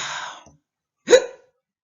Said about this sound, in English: I think he's got a bit of the hiccups